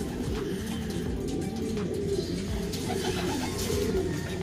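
Racing pigeons coo softly and continuously at a loft after a race toss, low burbling calls layered over one another with faint chirps and background rustle.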